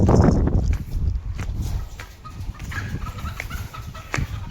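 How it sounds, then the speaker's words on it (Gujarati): Chickens cluck and squawk at a large poultry centre as birds are carried out, with nearby footsteps and handling noises, the loudest flurry at the start and scattered clucks continuing after. "અત્યારે જુઓ કુકડા લઈ જાય છે."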